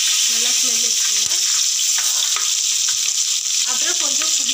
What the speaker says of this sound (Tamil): எல்லாம் சேர்த்து நம்ம ஃப்ரை பண்ணிக்கலாம்.